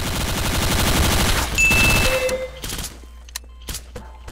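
Rapid automatic gunfire rattles in Garry's Mod, a dense burst for about two seconds that then breaks into a few scattered single shots and quieter clicks.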